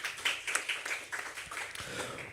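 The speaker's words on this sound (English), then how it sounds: "Can we give her a round of applause as well" Scattered applause from a debate audience welcoming a speaker, a dense patter of claps at moderate level, fairly close and steady throughout.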